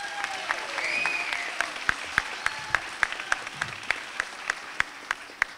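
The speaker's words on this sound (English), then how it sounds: "let's have a round of applause for the man who started this whole thing," Applause for Senator Jim Tedisco on an animal advocacy day, a soft crowd clapping and a brief whoop at first, then thinning into a few distinct, sharp claps that ring out in a fairly regular rhythm.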